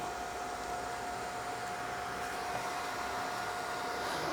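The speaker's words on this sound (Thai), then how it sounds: "มีความร้อนเกิดขึ้นแล้วก็พัดลมก็เริ่มทำงานแล้วนะ" Cooling fan of a 1200W 72V S-1200-72 switching power supply running under load, a steady close whooshing airflow with a faint constant whine and no voices.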